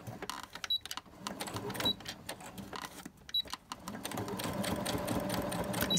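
A sewing machine stitching a fabric label, its motor rattling in short bursts and then in a longer steady run, with stop-start pauses, close and moderately quiet.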